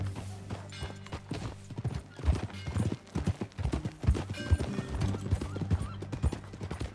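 Horse hooves clip-clop at a steady walking pace in Red Dead Redemption 2 over a constant low hum, with a faint whinny among the hoofbeats.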